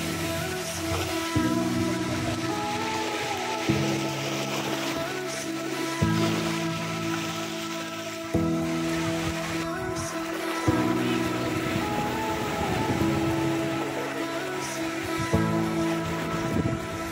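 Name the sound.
sea waves at Teluk Batik beach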